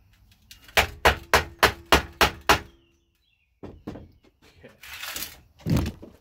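Seven rapid, evenly spaced metallic hammer blows on chisels at a Kawasaki KE102 engine case seam to break the gasket, loud and close, followed by a pause, a few scattered knocks and some speech.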